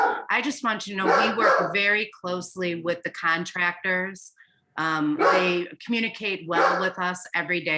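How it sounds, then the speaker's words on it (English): A dog barks in the background of a neighborhood video call about a school annex, sounding intermittently beneath continuous close speech. "I apologize for the dog in the background."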